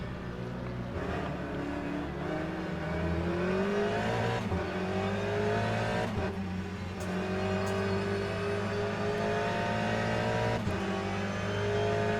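A race car engine in the Le Mans Ultimate sim drones through a formation lap at an endurance Le Mans start, with a steady, loud, harmonic-rich tone that climbs and eases with throttle under automatic shifting, with no voices.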